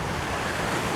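Strong wind and heavy ocean swells on seaside rocks where people are rock fishing, a loud, dense, unbroken roar of wind buffeting the microphone over surging surf.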